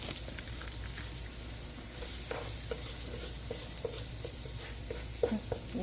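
Half a kilo of ground meat sizzles and fries in a pan for a stuffed dumpling dish, with steady crackle broken by scraping stirs and occasional sharper clinks of the utensil, fairly close and with no talk.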